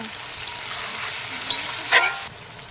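Meat stir-fries with spices and ground coriander in a pan, giving a close, continuous sizzle with a couple of short scraping stirs near the end, then a quieter tail.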